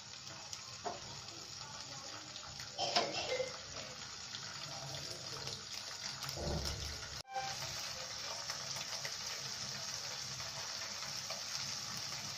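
Paneer pieces frying in oil in a pan for matar paneer give a steady, close sizzling hiss, with a brief clatter near the start and a short dip midway before the frying noise resumes.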